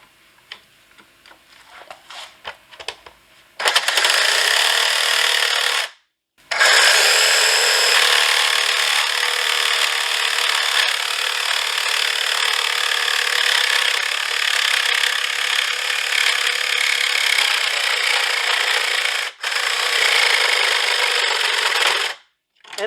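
A 1950s Craftsman table saw cuts through a zero clearance insert in long, loud, steady passes, broken by two short pauses before the blade noise resumes; a few light knocks and handling sounds come first.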